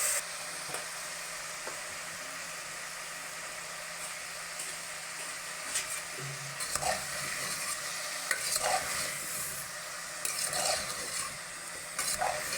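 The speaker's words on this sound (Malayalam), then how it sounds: "ഇത് നല്ലപോലെ എണ്ണയ്ക്കകത്ത് കിടന്ന് നല്ല വഴലണം." Vegetables with turmeric and salt sauté in oil for aviyal, a soft sizzle under repeated scraping stirs from a spoon, with irregular clattering strokes that grow busier toward the end.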